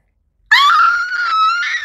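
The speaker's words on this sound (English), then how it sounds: "I can scream more than that" A person screams loudly and continuously for well over a second, a high sustained shriek that wavers slightly in pitch, starting abruptly after a brief silence.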